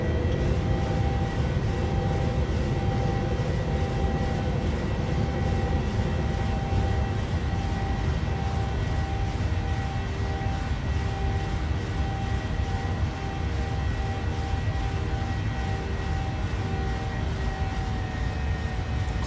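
A Boeing 737 in Microsoft Flight Simulator departs and climbs out from Miami, its engines giving a steady, loud roar with a held tonal whine that stays constant throughout, with no talk.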